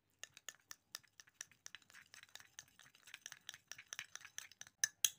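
A spoon stirs facial paste made with turmeric and oats in a bowl, giving a steady run of quiet scraping clinks with an even rhythm, close and soft, with no talking.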